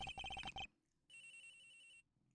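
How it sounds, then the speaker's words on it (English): A telephone ringtone in the Ace Attorney Investigations video game sounds as a loud, clear electronic ring. A quick burst of pulsing beeps is followed by a pause, then a longer steady warbling ring. "Agent Hick's phone. It's ringing from somewhere, sir."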